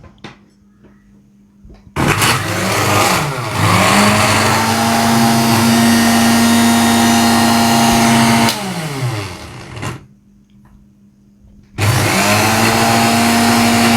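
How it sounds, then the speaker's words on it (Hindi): A blender grinds Arabic-style Mandi chutney ingredients with salt and a spoonful of vinegar, roaring loudly in two long runs with a steady whine, a brief drop in pitch midway, and short quiet gaps between bursts. "अब इन तमाम अज्जा को अच्छे तरीके से ब्लेंड कर लेंगे।"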